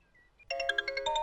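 Outgoing phone call ringing, a brief electronic tone followed by a bright melodic ringtone pattern repeating in short pulses, faint and close.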